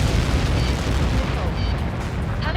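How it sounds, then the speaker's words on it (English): A large explosion in the video game Ace Combat 7 after a Helios projectile impact, a broad continuous rumbling roar filling the clip at steady loudness, with a faint tonal cue near the end. "How many got caught in that explosion?"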